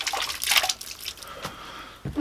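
Water is squeezed out of Reptichip coconut substrate into a bucket, heard as a few close splashes and dribbles with gaps of quieter trickling in between.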